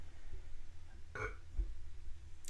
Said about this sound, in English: The only good thing coming out of this is my burps or the gas clearing out of my body.